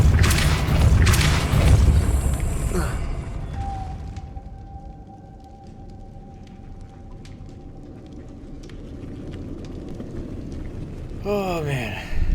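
A Depulso spell cast in the Hogwarts Legacy video game, a loud rumbling magical blast that fades into a quieter tone, with a sweeping whoosh near the end.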